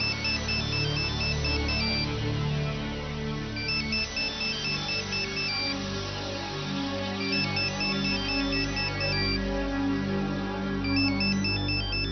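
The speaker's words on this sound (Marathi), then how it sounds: "फोन लावा मुधोळकरला." A telephone ringtone plays a loud electronic melody that repeats in regular phrases for the whole stretch, steady and close, with no talking over it.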